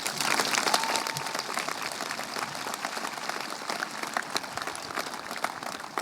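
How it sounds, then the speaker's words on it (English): Audience applause at a North Quincy High School senior event, a sustained wash of many hands clapping that swells at the start and holds steady throughout. "Give them a round of applause,"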